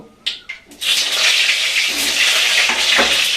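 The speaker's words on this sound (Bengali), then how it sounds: "এইবার আমি এই তেলের পরে আমি মাংস আলুটা আমি দিয়ে ভেজে নেব।" Meat and potatoes dropped into hot oil with cumin, a few brief taps followed by a loud, continuous sizzle of frying that holds steady.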